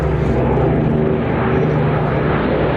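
A Boeing Stearman biplane flies at an airshow, its propeller engine giving a loud, steady drone that holds throughout with no talking.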